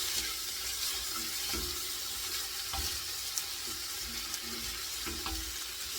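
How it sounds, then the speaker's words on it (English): Onions cook down in a pan for homemade beef stew, giving a soft, steady sizzle with a few faint clicks and stirring knocks throughout. "So these onions are cooking down."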